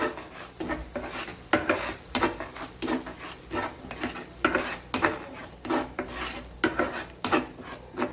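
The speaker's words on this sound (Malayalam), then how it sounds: "എന്നിട്ട് നന്നായി ഒന്ന് ഇളക്കി യോജിപ്പിക്കാം" Pizza ingredients with a spoonful of sugar being stirred and mixed in a bowl, brisk rhythmic scraping and rubbing strokes of a spoon repeating steadily and close by.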